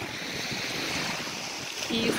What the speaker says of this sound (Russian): Мы на море.